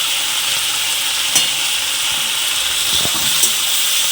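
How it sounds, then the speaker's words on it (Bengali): Shrimp coated in salt and turmeric frying in a wok, giving a steady, loud broadband sizzle throughout with occasional faint stirring clicks and no talking. "মাছগুলো ভাজছি, নুন হলুদ মাখিয়ে রেখেছিলাম।"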